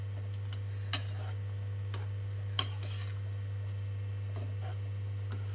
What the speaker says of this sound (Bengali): মিশিয়ে এটা একটু নাড়িয়ে দিন